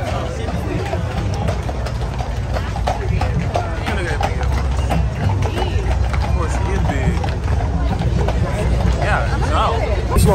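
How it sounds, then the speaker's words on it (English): Horses' hooves clip-clop amid a loud, dense crowd murmur at a state fair, the steps blending into constant chatter and background engine hum. "I look at these big ass horses."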